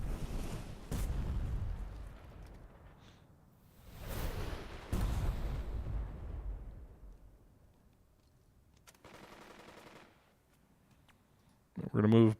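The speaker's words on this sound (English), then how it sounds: "Artillery's at least wrecking any troops that are in these houses in the town." Artillery fire in the WWII strategy game Burden of Command, shelling troops in town houses: several heavy booming blasts with long rumbling decay, spaced a few seconds apart, followed by a fainter crackle and a sharp loud burst at the end.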